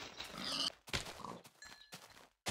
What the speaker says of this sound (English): Pigs! Pigs! Pigs!